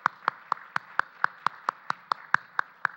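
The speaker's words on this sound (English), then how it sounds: "You're such good applauders so early in the morning" A single person claps at an even, brisk pace at a research symposium keynote, about a dozen sharp, close claps spread over a few seconds, with no crowd applause and no talking.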